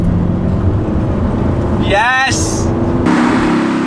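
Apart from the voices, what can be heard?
Audi R8 engine driving on the road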